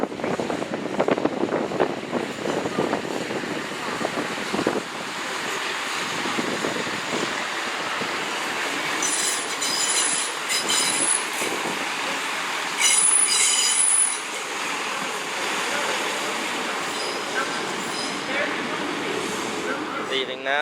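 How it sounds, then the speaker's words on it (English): A Great Western Railway class 166 diesel unit arrives at Bristol Temple Meads, its wheels squealing loudly and steadily for about twenty seconds beneath a constant station rumble and an indistinct announcement voice. "Arriving in now is the 12:31 Great Western Railway service terminating in from Severn Beach."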